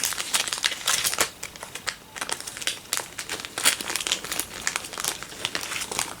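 Pokémon cards, Xerneas and Yveltal Full Art cards from an XY battle deck, handled and slid into plastic card sleeves, giving continuous close crinkling and rustling with sharp plastic crackles throughout and no talking.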